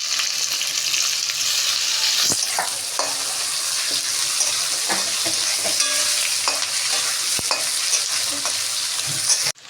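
Potato and onion fry in hot oil with dried red chilli, bay leaf, garam masala and cumin for a Tangra fish curry: a steady close sizzle throughout, broken by scattered clicks and scrapes of stirring, with no voices.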